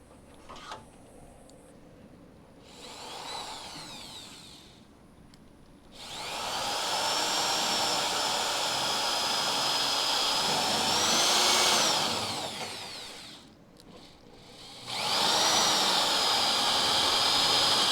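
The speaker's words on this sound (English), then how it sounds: "So I need to drill these holes on both sides." A power drill boring holes in the steel body of a crew cab Charger under restoration, running in long, loud, steady whines that rise and fall in pitch, with short pauses between holes and no talking.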